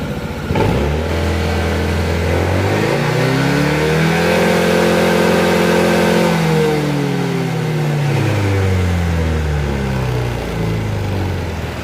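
A remapped Honda ADV 160 scooter engine revs up hard to about 10,500 RPM, holds high, then drops back and climbs again. The whining tone is loud and close, with no talking.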